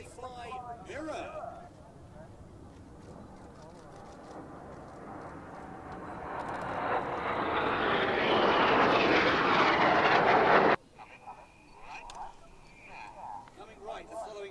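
Red Arrows jets flying in close formation at an air display, building from a faint hiss into a loud rushing jet roar that cuts off abruptly, with a commentator talking over it.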